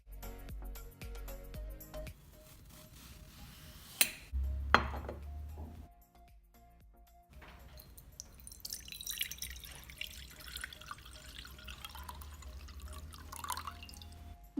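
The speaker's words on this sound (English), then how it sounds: "Then crush it over a bowl of water to create some great ASMR." Wet, glitter-covered floral foam crushed over a bowl of water, giving soft close-up crumbling and squelching with dripping and trickling water and a few light clinks.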